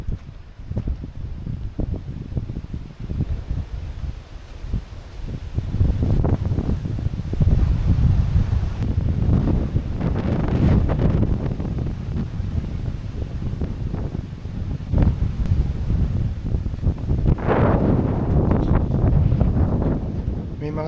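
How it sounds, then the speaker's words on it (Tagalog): Wind blowing down from the slopes of Mt. Banahaw in the foothills, a continuous buffeting rush that strikes the microphone in strong gusts, with a voice talking faintly underneath. "Iba yung hangin dito na nanggagaling dun sa baba ng bundok."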